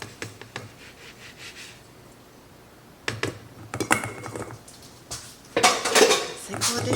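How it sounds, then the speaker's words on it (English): Dishes and cutlery clatter in a kitchen sink during home baking of a farmhouse buttermilk cake, with scattered clinks early, a quiet stretch, then busier, louder rattling and scraping near the end. "Sink full of dishes."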